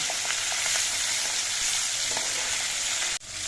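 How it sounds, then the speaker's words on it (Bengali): Steady, close hiss and crackle of hilsa fish frying in hot oil, continuous throughout with small pops, then a brief dip near the end. "দু এক মিনিটের মতো মাছটা ভেজে নেব"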